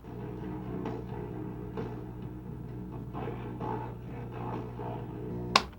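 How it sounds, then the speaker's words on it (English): A tape player running on half-wave rectified power gives a muffled, warbling murmur of playback with a low steady hum underneath, fairly faint, ending in a short sharp click. "A tape player running on this kind of power sounds like this."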